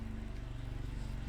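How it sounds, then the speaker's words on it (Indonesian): Motorbike engine outside, heard as a steady low drone that stays faint and distant throughout, with no voices over it. "Suara motor ya ada"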